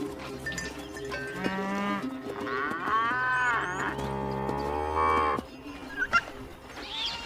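Cattle moo loudly in long, drawn-out calls, several overlapping lowing voices close by, followed by a few brief knocks.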